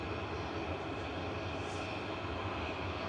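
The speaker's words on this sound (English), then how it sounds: "we got a little A320 of Aer Lingus. Coming in from Dublin with flight 202." Aer Lingus Airbus A320 airliner arriving at Manchester Airport, a steady broad engine roar with rushing wind noise that stays loud and constant throughout, with no voices.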